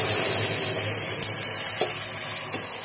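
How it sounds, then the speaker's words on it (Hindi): Hot water poured into a pot of basmati rice, a steady close rushing hiss of liquid with a faint clink or two, no voices. "इसको पानी को ऐसे डालो, गर्म पानी है"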